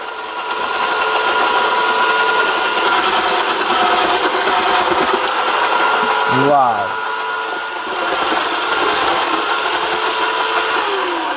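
A food processor chops onions with a steady high whirring motor drone that holds for several seconds. A brief dip and a squeaky tonal sweep come midway before the motor carries on. No voices.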